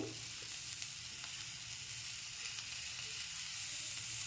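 Vegetables with Kashmiri chilli powder and turmeric fry in a pan for vegetable chops, giving a steady close sizzle and hiss with faint stirring scrapes, no voices.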